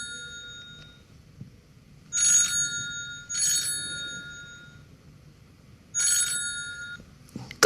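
A telephone rings three times, each a bright trilling burst of bell tone with quiet pauses between, the first two close together and the third after a longer gap, with no talk.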